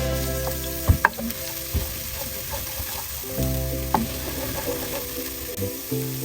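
Ginger garlic paste hitting hot coconut oil in a pan, a loud close sizzle and crackle with a few sharp spoon taps and stirring scrapes, continuing steadily with no talk.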